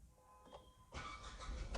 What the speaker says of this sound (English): The engine roars to life.